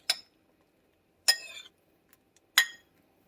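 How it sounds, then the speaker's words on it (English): Metal utensil clinks against a pan while mushrooms are stirred as oil heats, three short bright scraping clatters spaced about a second apart, close and clear with quiet between them. "Stir them up a little bit while I wait for the oil to heat up"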